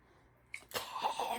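A small Shih Tzu dog gives a short, abrupt cough, a sudden burst followed by a rougher, breathy hacking sound that trails on briefly, close by in a quiet indoor room.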